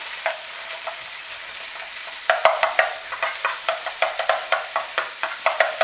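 A spoon stirs a taco mixture in a pan over off-grid cooking heat, giving a steady run of short scraping strokes with a faint sizzle beneath, louder and more rhythmic in the second half.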